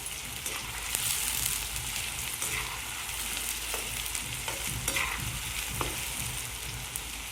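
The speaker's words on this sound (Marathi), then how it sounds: "मस्त कढई तापलेली आहे आणि चुलीवरचं वाटण मजेदार. कांद्याला परतून घेऊया." Onions sauté in a hot kadhai over a wood-fired stove, giving a bright, steady sizzle with repeated stirring scrapes and light knocks at irregular intervals and no voices.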